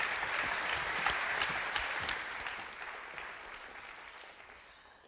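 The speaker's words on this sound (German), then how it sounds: "Applaus." An audience at a parents' congress claps for several seconds, the sound dense and steady at first and then tapering off gradually, with no speech.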